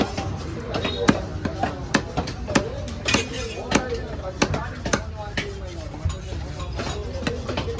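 A big red snapper fish being cut with repeated sharp chopping thuds in a steady rhythm at a fish stall, close and loud, with people talking throughout.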